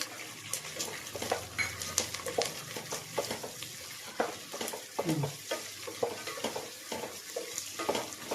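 Roasted gram dal frying and being stirred in a pan, with a steady sizzle broken by repeated scraping and stirring strokes, close and moderately loud.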